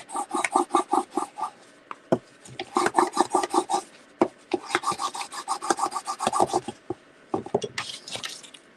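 A bone folder rubs repeatedly over paper to press it flat, quick close rasping strokes in rhythmic bursts with brief pauses between them.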